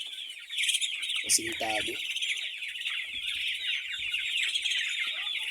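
Newly acquired young ducklings peep in a steady stream of high, close chirps throughout, with someone speaking briefly over them near the start.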